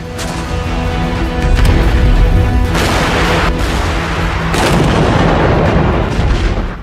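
Booming blasts from a 155 mm Bofors artillery gun, deployed in mountainous terrain, ring out in loud, dense succession with heavy low rumble and sharp reports, several shots overlapping across the stretch with no talking.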